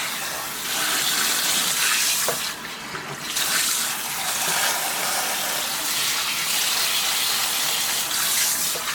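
Water runs steadily from a tap while long hair is rinsed, a loud, continuous close gush with no talk.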